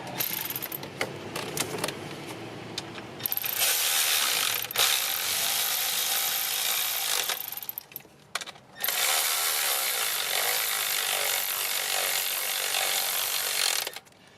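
A ratchet tightens the ignition coil bolts on a 5.7 Hemi engine in a 2012 Dodge Ram 1500, making rapid close clicking in long bursts with short pauses between, and no talking.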